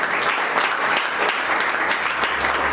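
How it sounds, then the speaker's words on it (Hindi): Loud, dense applause from a crowd at a field leaders' meeting in India, continuous and even throughout with no talk over it. "एक बार सीमा जी के लिए जोरदार तालियां आप लोग बजाइए।"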